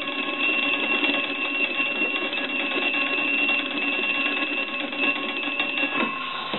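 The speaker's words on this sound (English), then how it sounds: "we want to go ahead and ring the bells real quick" The bells of an antique American wooden wall telephone, rung by its hand-cranked magneto, produce a continuous, loud, metallic ringing trill that lasts about six seconds and then stops, with a thin, telephone-like tone.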